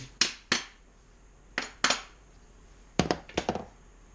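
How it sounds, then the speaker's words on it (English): Parts are tapped into a corroded Subaru RallyXT transmission case, giving sharp metallic knocks close by. They come in pairs and then a quicker cluster of five or so, with quiet gaps between and no talk. "Sometimes you need to be able to tap stuff in"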